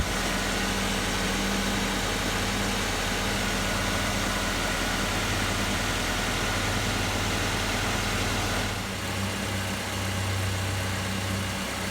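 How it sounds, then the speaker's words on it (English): A Suzuki SX4 engine idles steadily with its AC compressor engaged, a continuous low droning hum with a constant mechanical whir that shifts slightly in tone near the end. "I can hear the compressor running."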